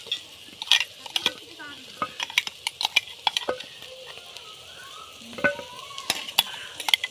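Crushed garlic, ginger and shallots are stir-fried in a pan, with a soft background sizzle under repeated sharp clinks and scrapes of a spoon against the metal, irregular and close.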